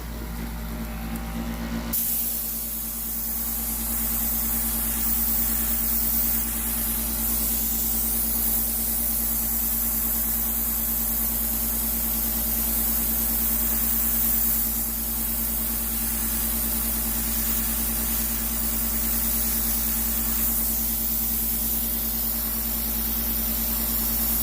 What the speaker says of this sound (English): I'm just going to airbrush a little red glow around my logo on this side.